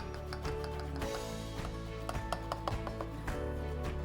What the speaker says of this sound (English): you basically need to cut through before it goes in the oven